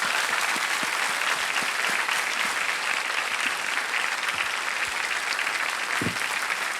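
A studio audience on the quiz show Kaun Banega Crorepati claps for a contestant, producing loud, continuous applause that fills the whole stretch with a few louder individual claps standing out.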